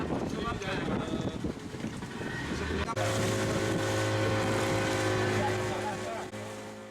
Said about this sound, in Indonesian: perjalanan dengan menggunakan perahu motor dari Tanjung Kelayang kurang lebih 20 menit